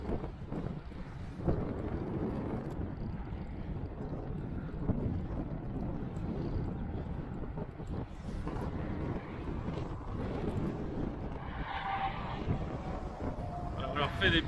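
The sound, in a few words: dry east wind blowing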